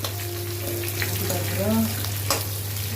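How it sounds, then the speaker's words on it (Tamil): Onions frying in a pan, a steady sizzle with a low background hum, a few stirring clatters and brief tonal squeaks, close and without speech. "வெங்காயத்தை போட்டு நல்லா வறுத்துட்டு நல்லா வதக்கணும்."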